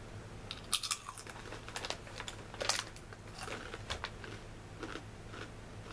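Crunchy corn-based snack with a sweet taste and noodle-like shape being chewed and bitten close up, with irregular crisp crunches and crackles throughout and no talking.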